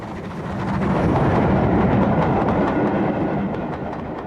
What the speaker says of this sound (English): an unrebuilt bullied number 34064 Fighter Command, uniquely fitted with a diesel ejector